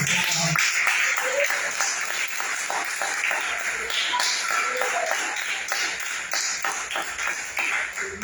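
A church congregation claps and cheers during a worship service, a continuous wash of hands with scattered taps and shuffles, mixed with a few faint voices in the room.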